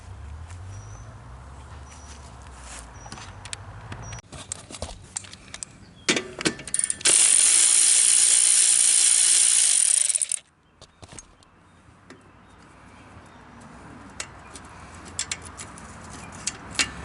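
A wrench works the rear axle nut on a 1996 Honda Magna 750 motorcycle, with scattered metallic clicks and clinks, then a loud, sustained burst of grinding or ratcheting for a few seconds, then a return to sparse clicks.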